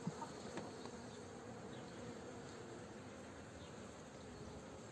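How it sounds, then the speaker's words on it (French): A dense, steady drone of many honeybees buzzing close around an open hive, a continuous hum with faint higher whines of individual bees passing. "Vous voyez, hein, c'est plein d'abeilles"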